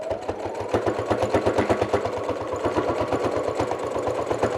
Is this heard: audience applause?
no